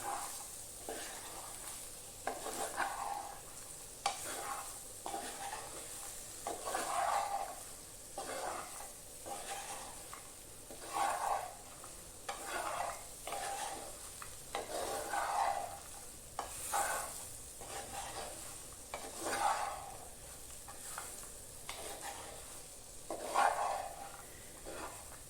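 Masala-coated soy chunks are stirred in a hot pan for a soy roast, soft rhythmic scraping strokes every second or two over a faint steady sizzle, quiet and close, no voices.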